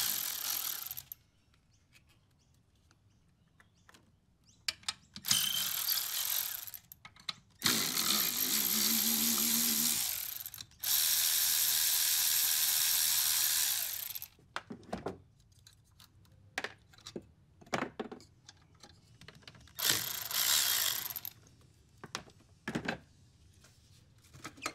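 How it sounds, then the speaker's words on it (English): Working on a Honda Civic, a ratchet is used on bolts to remove the battery, with long bursts of rapid clicking broken by pauses, tool clatter and handling, close by and with no talk. "So to get access to the two bolts, this battery needs to come out."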